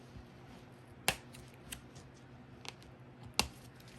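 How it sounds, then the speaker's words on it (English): Scissors cutting the tag off a stocking, two crisp snips a couple of seconds apart with a few faint rustles and clicks in between, close and quiet. "take your stocking and just cut off this"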